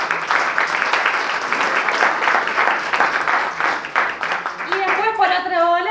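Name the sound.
audience applause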